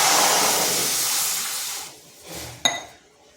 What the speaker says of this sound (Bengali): কড়াইতে দিয়ে দিচ্ছি জল